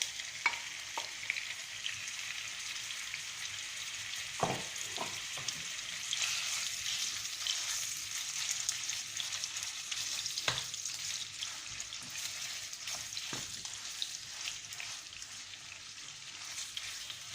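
Seasoned ground beef frying in a pan, a steady close sizzle with occasional stirring scrapes and small pops, no voices.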